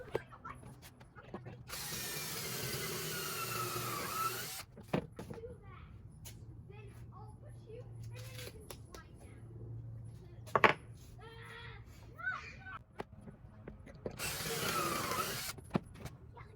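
A drill driving pocket-hole screws while building a rustic couch end table, two bursts of whirring, one early and one near the end, separated by clicks, handling and quiet shop noise.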